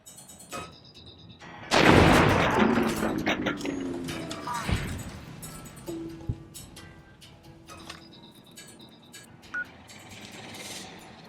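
Heavy gunfire from weapons in a Mojave wasteland video game: a loud burst of shots and crashing impacts, followed by scattered single shots and metallic clicks, with faint background clatter between.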